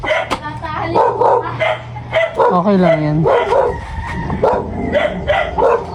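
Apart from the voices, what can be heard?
dogs barking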